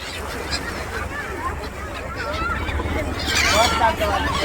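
Honking, goose-like bird calls ring out over a low rumble near green water at a boat jetty on the way to Beyt Dwarka, growing louder toward the end.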